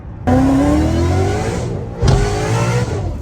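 A supercharged 2012 Ford Mustang 5.0 engine revving hard with a rising high-pitched supercharger whine, two loud bursts close by, the second after a brief dip.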